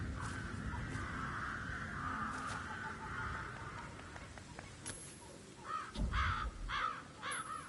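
Several crows caw in quick succession over a low rumbling background in the video game Hitman 3, a burst of harsh calls near the end.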